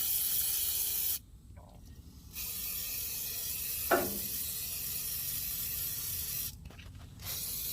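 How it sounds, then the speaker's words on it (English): Steady broadband hiss of a WD-40 spray can washing out a 1952 Chevy distributor cap, with short bursts of spraying and brief pauses between them. "I'm going to use some WD-40 and I'm going to kind of wash out this cap"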